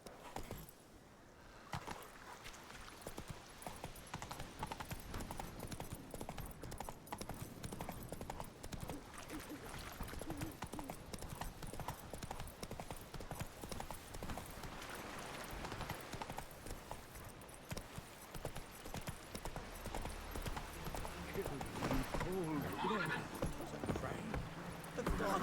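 Geralt's horse Roach trots in The Witcher 3 video game, a quiet steady clip-clop of hooves running throughout, with game ambience and occasional voices.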